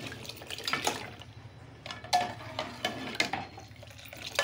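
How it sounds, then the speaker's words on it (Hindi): Cold water splashes as it is poured into a Kashmiri chai (pink tea) mixture, with a few close clinks of a pot and utensils and no talking. "अब ये पानी मैं इसमें ऐड कर दूंगी"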